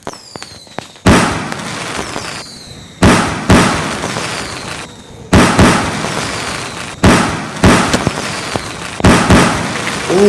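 Firecrackers burst in Indian Bike Driving 3D, a Diwali game scene: a string of loud, sharp blasts recurs roughly every one to two seconds, each followed by crackling and sizzling debris, with faint whistles before the first bang.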